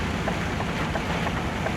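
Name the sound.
heavy rain on car while driving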